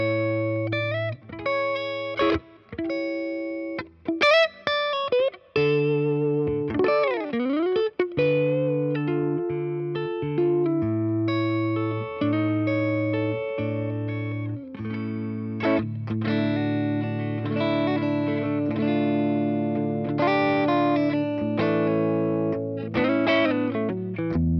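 A Patrick James Eggle Macon and a Gibson Custom Shop electric guitar played through effects with distortion, sustained chords and single notes ringing loud and alone, with bends and brief pauses between phrases.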